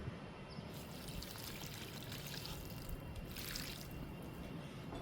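Liquid fertilizer poured from a container around the base of a pomegranate plant, a faint, continuous trickling pour with a few soft splashes over several seconds, no speech.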